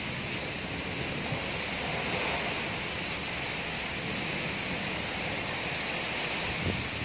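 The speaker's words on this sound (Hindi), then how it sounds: "इतनी सुबह सुबह भी बहुत तेज़ बारिश है और बहुत तेज़" A dense, steady roar of heavy early-morning rain in Faisalabad, constant and loud throughout, with no voices.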